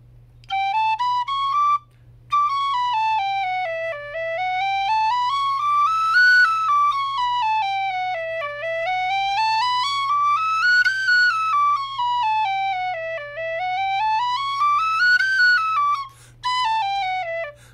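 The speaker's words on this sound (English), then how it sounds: "get really comfortable with that spot on your whistle" Tin whistle played alone, sliding smoothly up and down between its low and high octaves in repeated rising and falling runs, clear and close, with a brief pause near the start and another near the end.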